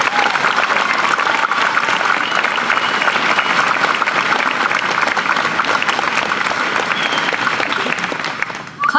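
An audience at a 2013 high school commencement applauds as the salutatorian is welcomed to the podium, producing a loud, dense, sustained clapping that fills the space evenly before tapering off at the end.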